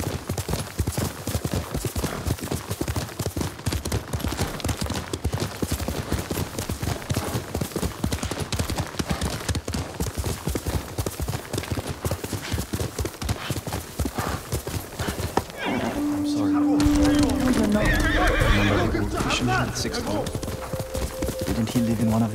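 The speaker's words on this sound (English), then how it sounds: "Good horse, Kage." Kage the horse galloping in Ghost of Tsushima, a long run of fast, close hoofbeats that gives way to a sustained neigh near the end, with voices speaking over parts of it.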